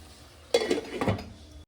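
A lid is set onto a pan of spiced chicken cooking on the stove, giving a quick metallic clatter and clink, two short knocks close together over faint background hiss.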